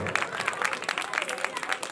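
An audience claps at a devotional Mata ka jagran, a dense, continuous burst of applause with a crowd murmur under it.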